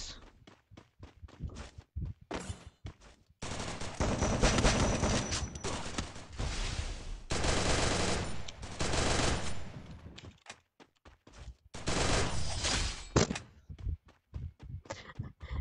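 Rapid gunfire bursts trade back and forth in a Free Fire squad ranked match, with loud sustained automatic volleys broken by short gaps and single shots, close and dense with no talking.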